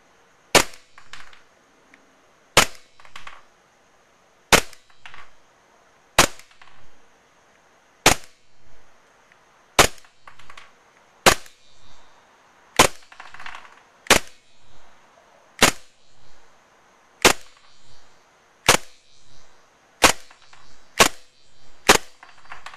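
A WE G18c Gen 4 Glock airsoft pistol fires single semi-auto shots with 0.2 g BBs. About seventeen sharp, loud cracks come at an uneven pace, roughly one per second, each followed by a fainter click from the mechanism.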